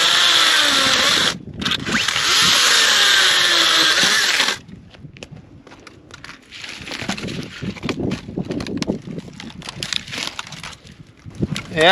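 A power saw cutting dead tree limbs for firewood: a loud, close, high buzzing engine whine for several seconds with a brief dip, then cutting out to quieter clatter, branch snaps and handling noises outdoors.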